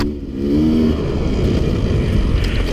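A 2017 Sherco 300 SE-R dirt bike engine runs loud and close on a trail, with a steady throaty drone that rises briefly in pitch near the start.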